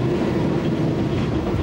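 Rolling rumble and rhythmic wheel clatter from an old 1960s-built smoking steam train on a Moravian railway line, steady and loud throughout with no pauses.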